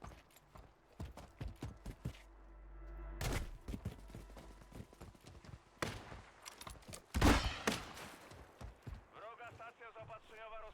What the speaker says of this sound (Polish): bo oni też do mnie strzelają